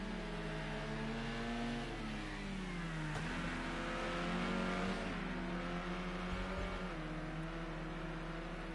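Race cars in a sim racing game at the Bannochbrae circuit, several engines droning and revving with pitch rising and falling as cars pass, one sweeping by more loudly midway.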